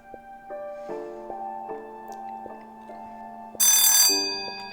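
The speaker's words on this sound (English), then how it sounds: "And there's the bell." A bell rings in the video game What Remains of Edith Finch, sustained chiming tones layered over a soft melodic backdrop, ending with a brighter shimmering strike.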